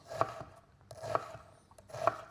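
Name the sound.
knife dicing onions on a chopping board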